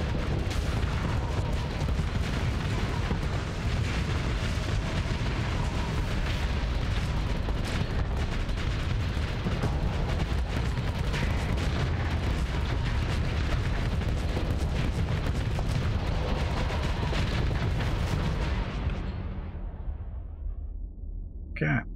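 Missiles and ship guns fire in a heavy, unbroken barrage during a Starsector space battle between an Executor-class dreadnought and a battlestation, with booming explosions before the roar cuts off abruptly near the end.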